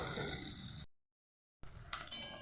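Pangas fish frying in hot oil in a wok, a steady bright sizzle that cuts out briefly to silence and then resumes with crackling spatters, no talk.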